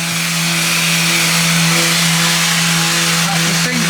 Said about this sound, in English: Just sanding down the joint.